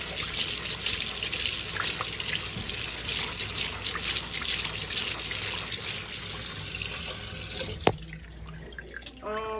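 Tap water runs steadily from a kitchen faucet into a strainer sitting in the sink, a constant close splashing and trickling hiss with a brief sharper knock near the end.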